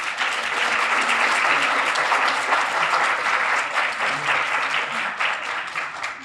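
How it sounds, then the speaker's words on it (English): Steady applause from a crowd at a convention of the Federation of the Blind, sustained and even for several seconds with no talking, after the color guard presentation. "let's give our color guards a round of applause"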